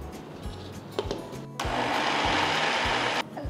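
A mixer grinder whirs at full speed, grinding leftover cooked rice and wheat flour into chapathi dough, with a steady loud roar starting partway through after brief clatters and stopping abruptly near the end.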